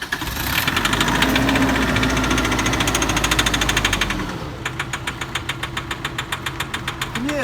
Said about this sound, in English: I'll just start the engine for you.